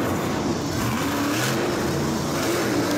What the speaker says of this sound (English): I don't know who's driving any truck, so we are just reacting to monster trucks driving in Wilkes-Barre